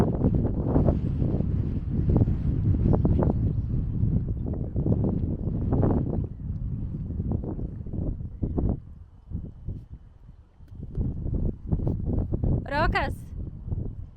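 Strong wind buffets the microphone on a lake during a fishing trip, roaring loudly and almost continuously in gusts, with a voice speaking briefly over it.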